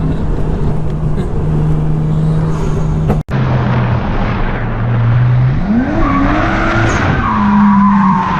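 A car drifting with loud tyre skids, the engine droning, then revving and rising in pitch as the tyres squeal through a long slide, heard close up from the car.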